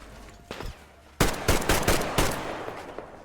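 Rapid gunfire in Metro Exodus: a few softer shots, then a loud sustained burst of close, punchy rounds in quick succession, with no talking over them.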